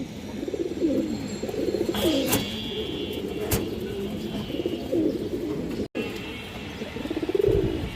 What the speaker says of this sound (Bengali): পেয়ারটা দেখেন আপনারা মশাল্লাহ নরের ডাকটা দেখেন